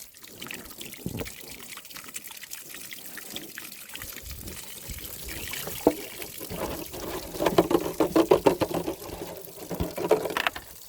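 Water pouring out of a shot water jug after a bullet test, a splashing, trickling pour that builds and bursts in clustered surges toward the end, fairly close and alone without talk.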